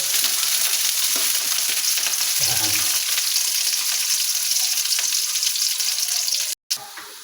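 Plenty of garlic frying in a pan, a loud, dense and steady sizzle that runs nearly the whole time, with a brief low stirring scrape partway through and a sudden short dropout near the end.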